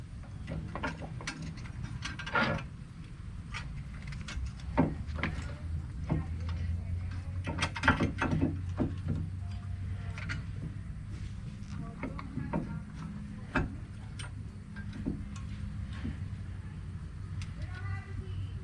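A ratchet tightens bolts on a Chevrolet Monte Carlo hub assembly, giving scattered clicking bursts and metallic clanks up close, with someone talking over the work.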